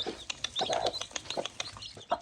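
A hen clucks softly among newly hatched chicks, with short scattered clucks and high peeping chirps close by in an irregular rhythm.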